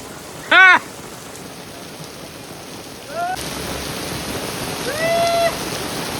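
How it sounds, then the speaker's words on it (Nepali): Heavy rain pours during a beach barbecue at Hacsa Beach, Macau, making a constant close hiss. A few short voiced calls rise over the downpour near the start and again later. "पुरै पानी परेको छ"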